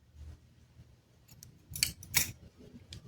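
Two sharp snips of scissors cutting yarn while crocheting an amigurumi doll, close and clear over a quiet background, with a faint click before them.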